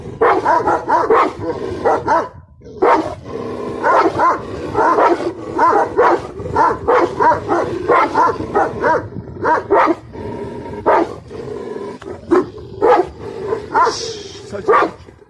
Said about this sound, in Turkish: Böyle havlayıp havlayıp duracaklar.